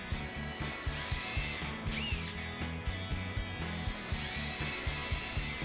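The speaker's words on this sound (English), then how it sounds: "Pre-drill the hole and center it right on the center of the metal piece." Power drill pre-drilling a hole through a metal piece into wood while building a coat rack, its motor whining in repeated short pulses with rising and falling pitch, fairly faint and close.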